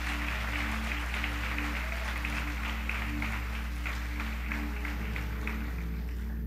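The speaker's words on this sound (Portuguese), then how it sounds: "Um aplauso, Jesus, pela vida dela." A church congregation applauding at a centenarian's celebration, steady sustained clapping filling the hall over a low hum.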